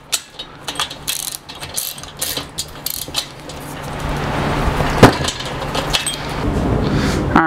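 A ratchet wrench tightens bolts while assembling a Harbor Freight 1 ton shop crane, with rapid close clicking in short bursts, metallic clanks, and a rising steady mechanical noise later on.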